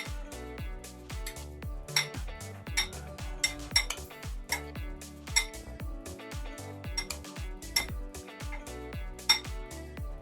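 Sauce ingredients, fish sauce among them, are mixed in a bowl for deep-fried fish, with steady repeated clinks and scrapes of a utensil against the bowl, close and fairly loud, with no talk.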